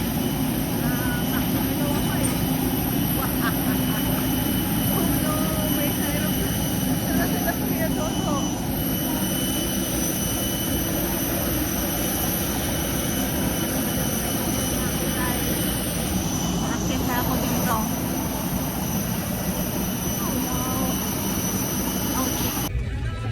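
Engine noise fills an airplane cabin as a steady, loud, broadband roar and hum with no letup, with faint voices in the background.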